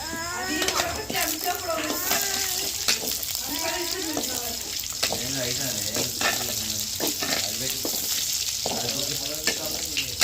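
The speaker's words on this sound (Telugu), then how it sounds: "టమాటాలు ఉల్లిగడ్డ పచ్చిమిరకాయ అయినంత ఫ్రై చేసి" Tomatoes, onions and green chilies frying in a pan, a continuous sizzle with clinks and stirring, overlaid by people talking and running-water noises in a busy home kitchen.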